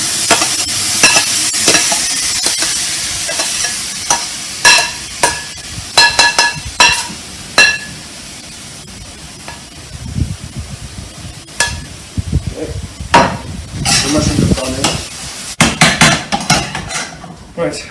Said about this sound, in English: Sizzling away, and so we can add our mushrooms.